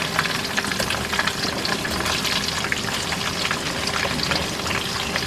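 Onion sizzles in hot oil in a pan at the start of a fish curry, a dense continuous crackling hiss at moderate volume with no talk.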